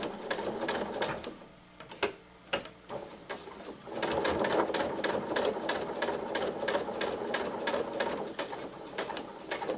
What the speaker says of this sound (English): as you're stitching, you may need to lift your presser foot and just do a few stitches at a time to follow that curved line